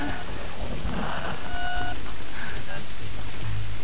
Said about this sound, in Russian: Идет дождь, и все замерзло.